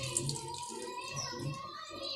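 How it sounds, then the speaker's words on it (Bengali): Overnight rainwater is poured out of a red container, a close, continuous splashing trickle that runs steadily for a couple of seconds with faint background sound. "এখান থেকে এই লালটাতেও একটু পানি জমেছে, এটাকে একটু পানিটা কমাই দিই"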